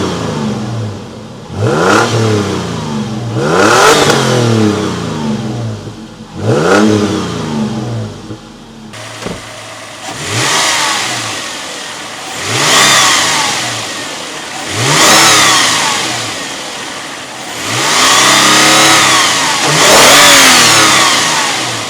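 A 2010 Toyota FJ Cruiser runs after a cold start, its exhaust close and loud as the engine is revved in repeated surges that swell and drop back toward a steady idle.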